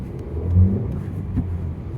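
Hyundai Verna sedan with a 1.5 turbo engine and manual gearbox pulling away from a launch, a steady low engine rumble and whir swelling briefly as it accelerates, heard close and continuous with no talk.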